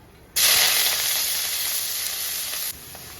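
Onions for a beef stew hit hot oil in a pan and burst into a loud, bright sizzle that holds steady for over two seconds, then cuts off abruptly.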